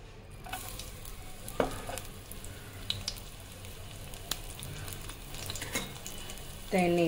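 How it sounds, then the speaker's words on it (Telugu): Garlic crackles softly in a few spoons of hot oil, a low continuous sizzle with scattered faint ticks of a utensil and a brief louder burst near the end. "ఇది కొద్దిగా హీట్ అయ్యాక ఫస్ట్ గార్లిక్ వేసుకున్నాము."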